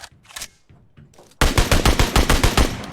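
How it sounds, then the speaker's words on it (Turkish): Rapid automatic gunfire in PUBG Mobile: a few scattered distant shots, then a loud, close burst of evenly spaced rounds firing in quick rhythm to the end. "Birilerini vuruyor"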